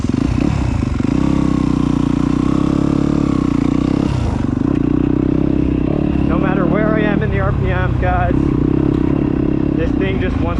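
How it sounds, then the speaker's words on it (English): A Yamaha YZ250F dirt bike engine drones loud and continuous at close range, its deep intake note rising and falling with throttle, while a person talks over it for part of the time. "I love the deep throaty intake noise."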